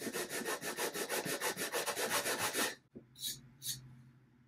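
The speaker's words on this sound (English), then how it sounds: "You can use one of the sanding sheets and glue it onto a piece of wood" Rhythmic back-and-forth rasping of a 3M Pro Grade Precision sanding sheet glued to a wood block, sanding wood flat: about a dozen quick even strokes, close and steady, then stopping with a couple of faint scrapes.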